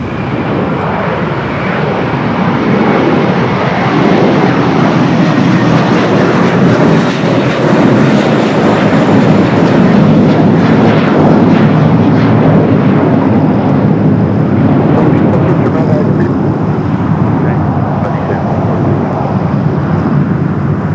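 An airliner in Allegheny retro livery roars steadily at LAX, a loud, continuous jet engine rumble with a broad wash of noise that holds strong throughout, with no voices.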